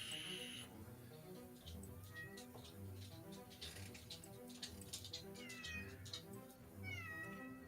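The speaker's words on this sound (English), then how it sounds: "I hear the kitty." A cat meows several times, faint and somewhat distant, with drawn-out rising calls near the end. It sits under a steady background of low hum and clatter during a tabletop role-playing session.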